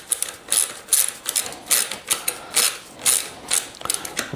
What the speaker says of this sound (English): It's a ratcheting flare wrench.